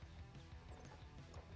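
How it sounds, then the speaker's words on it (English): A horse archer unit gallops in the Stronghold Crusader strategy game, with faint, quick clip-clop hoofbeats in a steady running rhythm under low game ambience. "Ah, horse archer coming out, fair enough."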